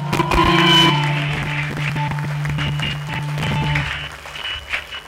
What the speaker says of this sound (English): clap your hands up to the Lord